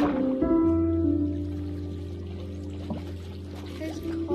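Flowing water in the Minecraft video game, a steady pouring, trickling wash that runs throughout beneath a sustained droning tone and some quiet background sound.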